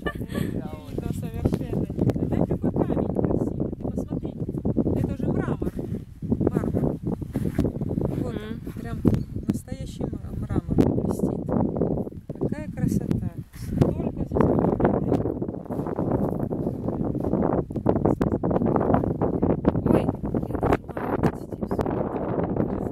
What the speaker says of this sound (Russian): Оля, ветер внезапно поднялся.